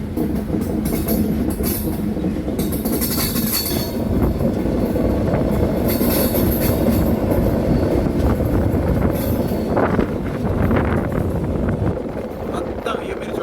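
Venkatadri Express train 12798 rolling along the rails with a steady, loud rumble of wheels and carriage noise throughout, some brighter squeals and clatter rising at moments, heard from on board.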